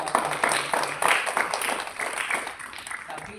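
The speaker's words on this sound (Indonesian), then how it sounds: "Kita kasih tepuk tangan dulu." An audience claps together in a dense burst of applause that rises quickly, then thins and fades over a few seconds.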